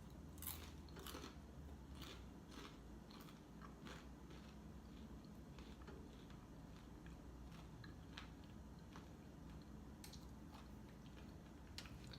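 Homemade potato chips made in a Ninja Foodi crisper are bitten and chewed, giving repeated crisp crunches in an irregular rhythm, close but quiet, with no talking.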